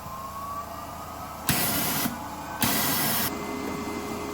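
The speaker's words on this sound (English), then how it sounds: "now I'm going to power up the sandblaster and blast a little bit to make sure anything that's in the nozzle empties out" Wolf Foredom sandblaster firing to clear its nozzle, two separate loud hissing blasts of air and abrasive, each lasting under a second, with a quiet hum between and after them.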